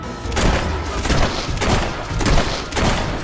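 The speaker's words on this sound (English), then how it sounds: "Marvelous shooting." Gunfire in the Fable 3 video game: loud, close bursts of shots come in four or five rapid clusters with heavy low thumps between them, no voices over it.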